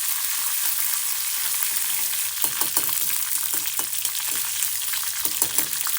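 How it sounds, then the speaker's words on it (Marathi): Ginger-garlic paste fries in oil for a bitter gourd curry, giving a steady dense sizzle with soft crackles and occasional stirring scrapes, loud and close, with no talking. "हलकस अद्रक लसूण पेस्टला आपण फ्राय करणार आहोत"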